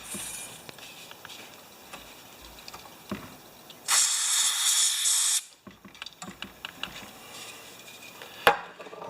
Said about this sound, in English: take a tiny bit of carb spray right now and see if we can spray through the needle